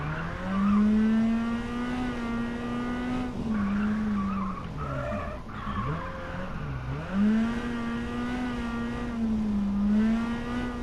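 A rally car engine in WRC 10 holds a steady note, then dips and swells as the car brakes and accelerates through tarmac hairpin corners, with tire squeal throughout and no talking.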